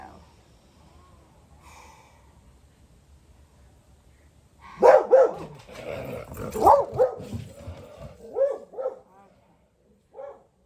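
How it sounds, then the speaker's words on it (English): Partway through, an indoor dog breaks into a string of loud, close barks with snorts and whimpers mixed in, irregular and bursty, after a quiet stretch during a home workout. "And there goes the dog."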